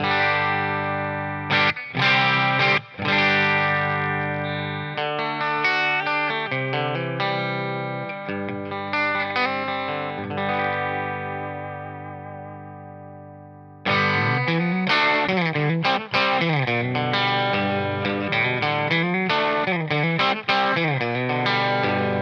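Electric guitar with P90 pickups played through a Quilter Toneblock 202 amp, giving loud, continuous distorted chords and single-note runs with effects, a short gap near the middle, then dense riffing resumes.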